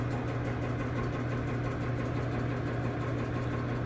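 A Mikron 132-02 precision gear hobber set up with an internal cutter for internal gear cutting runs steadily, giving off a continuous close mechanical hum with a constant low drone and even vibration.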